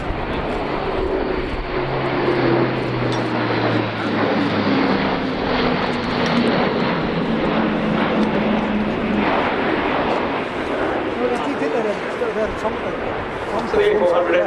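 An Airbus A400M Atlas military transport of the German Air Force flies a display at the RIAT 2025 airshow, its turboprop engines making a sustained, loud, rumbling roar with shifting tones while voices are heard over it.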